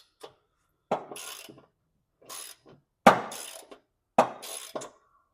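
A ratchet works 10 mm bolts loose from the mower deck spindle of a Cub Cadet Ultima ZT1 54-inch zero-turn, several short separate bursts of metallic clicking and clanks close by with silent pauses between.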